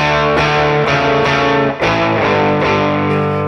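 Heavily distorted electric guitar chords through an Axe-Fx ring out loud and saturated, struck several times in a slow rhythm with dense, buzzy sustain.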